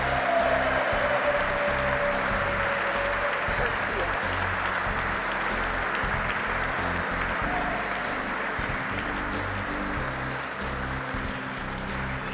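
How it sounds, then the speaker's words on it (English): An audience applauds at a youth awards benefit gala, giving a broad, steady wash of clapping from a large crowd that holds through the whole stretch, with faint voices mixed in. "I ask you all to give a big round of applause for Kia and Bob"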